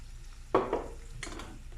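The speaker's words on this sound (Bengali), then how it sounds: "কালো জিরার পেঁয়াজটা একটু ভাজা হয়ে গেলে" Onions with black cumin frying in a pan, a soft sizzle with two sharp stirring scrapes near the start and another short burst later, close and fairly quiet.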